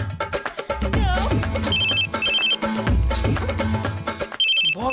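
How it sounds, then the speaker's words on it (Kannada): A mobile phone rings loudly and close with an incoming call during a Kannada TV serial comedy scene. A melodic ringtone repeats continuously, with no talking. "boss phone ಮಾಡ್ತಿದಾರಲ್ಲ,"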